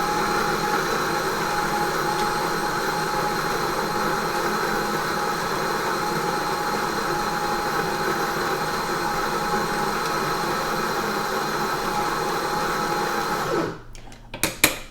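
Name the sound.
coffee grinder grinding a shot of espresso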